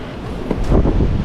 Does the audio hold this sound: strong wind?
yes